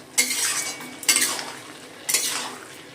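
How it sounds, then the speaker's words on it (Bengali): A spoon scrapes three times through bottle gourd cooked with shrimp and sugar in a pan, with evenly spaced stirring strokes close up over a faint background. "একটা বাড়ি দিয়ে লাউয়ের সাথে মিশিয়ে নেব।"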